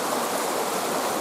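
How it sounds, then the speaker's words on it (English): Steady rain pouring outdoors in the countryside, a dense continuous broadband hiss that holds evenly loud and close throughout with no breaks. "It's still raining right now, but it's let up just a little bit"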